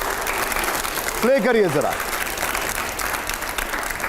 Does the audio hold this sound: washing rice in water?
no